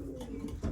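Racing pigeons cooing close by in a loft, a low soft warble running through a short moment and swelling slightly at the end, with no talk over it.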